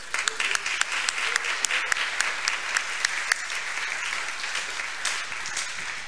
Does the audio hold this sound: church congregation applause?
yes